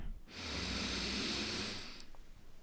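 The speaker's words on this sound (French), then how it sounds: "Inspirez." Slow, steady inhalation during a guided sophrology relaxation exercise, a soft breathy hiss that swells and holds for about two seconds before fading, close and alone with no talking.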